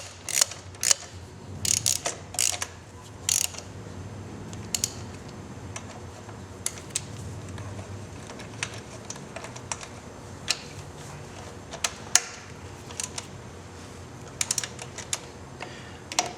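Bolts being tightened on a motorcycle rear master cylinder cover, with close mechanical clicks and ratcheting in irregular bursts over a low steady hum, no talking.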